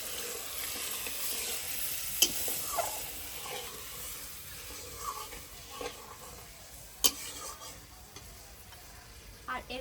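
Katla fish roast frying in a pan as water rinsed from the spice bowl is added, giving a steady close sizzle with scattered sharp pops and crackles throughout and no talking.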